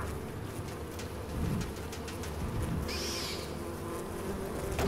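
Bees buzz steadily in a video game, a continuous droning hum at moderate level with a brief higher whine partway through and no talk.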